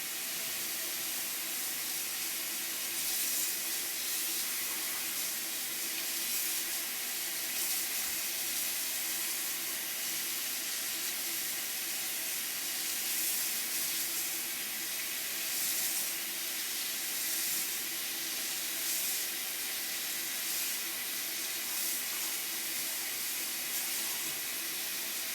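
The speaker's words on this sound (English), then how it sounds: "I'll add some cold water." Cold water runs steadily into a darkroom sink to wash fiber-based photographic paper, an even, continuous hiss and splash that holds for about twenty-five seconds with no voices.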